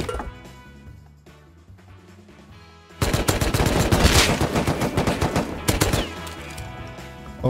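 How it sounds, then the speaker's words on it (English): AK rifle gunfire in the survival video game Rust: loud, rapid bursts of automatic fire begin suddenly after a quieter stretch and continue in sharp, closely spaced volleys, with a few final shots near the end. "Well, that's my AK."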